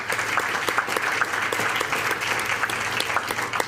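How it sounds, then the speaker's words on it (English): Sustained audience applause for sponsors at a political history event, a dense even patter of many hands with no break, filling the room. "Can we get a round of applause for those sponsors?"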